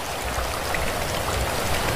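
Steady rain with rushing water, a continuous loud hiss of drops striking surfaces over a broad wash of flowing runoff, close and unbroken with no voices.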